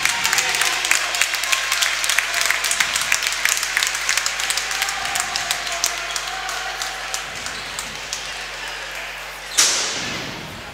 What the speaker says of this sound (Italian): Esce tra gli applausi Longobardi.